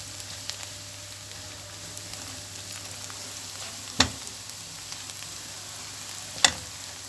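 Onion and red pepper flakes frying in a pan, a steady soft sizzle running throughout with two brief clanks of a utensil.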